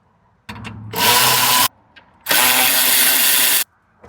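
A power tool driving out screws on a Chevy Express van's interior trim panel, with two loud sustained whirring bursts, each about a second long and separated by a brief pause, close and alone.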